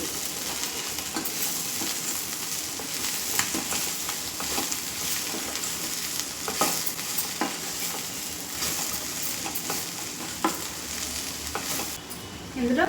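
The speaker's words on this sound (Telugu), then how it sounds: "చిటికెడు పసుపు కొంచెం ధనియా పౌడర్ వేసుకొని బాగా మిక్స్ చేసుకుంటున్నానండి" Aloo and peas curry fries in a pan with turmeric and coriander powder while a spoon stirs it, giving a continuous close sizzle broken by repeated scraping strokes throughout.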